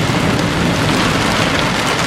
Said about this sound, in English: soaked anyway, just from the rain coming down